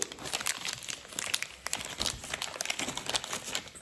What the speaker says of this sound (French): Donc la bandoulière, elle est emballée aussi. Je vais la déballer.